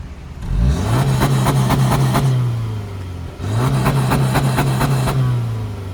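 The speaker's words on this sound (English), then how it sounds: "when I got this Subaru, I just wanted to rev it" A 2023 Subaru Forester engine revs twice in close succession, each rev climbing quickly, holding briefly, then falling back to idle. The sound is loud and close, with no talking.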